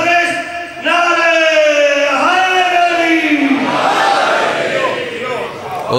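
A crowd at a majlis chants religious slogans together in a loud, sustained call rising from many voices, with one held, sweeping tone followed by rougher overlapping shouts.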